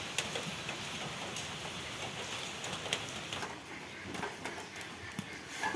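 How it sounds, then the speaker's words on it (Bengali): Water boiling in a cooking pot, a steady close bubbling patter with small pops throughout, moderately quiet and alone. "এই দেখেন বন্ধুরা আমার জলটা ফুটে গেছে"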